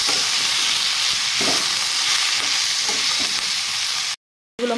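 Vegetables seasoned with salt and turmeric sizzle steadily in a hot pan for a Bengali tangra fish charchari, with soft scraping stirs now and then, a brief cut near the end, then the frying picks up again.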